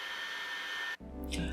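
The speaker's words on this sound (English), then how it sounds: "For this I use a hair dryer because it will make it easier to remove the display" Hair dryer blowing on an iPhone 7 display to loosen it, a steady close whoosh with a whining tone that cuts out abruptly near the end, followed by faint handling noise.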